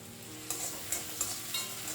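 Ginger and spring onion whites fry over high flame in a pan with a steady close sizzle, broken by several sharp scraping stirs.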